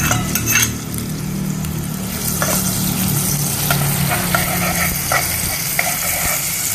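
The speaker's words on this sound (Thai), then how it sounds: "ใส่น้ำมันลงไปครับ ใส่กระเทียมกับพริกครับ" Garlic and chili stir-fried in hot oil in a pan, with a steady loud sizzle and a spatula scraping and clinking against the metal now and then, close and without any talk.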